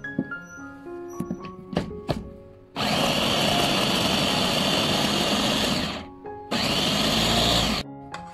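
An electric chopper grinds raw mango chutney with mint, coriander and pomegranate seeds. Light clinks and thuds come first, then two loud sustained whirring bursts of the motor separated by a brief pause.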